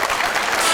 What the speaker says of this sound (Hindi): एंजेलिना के लिए तालियां।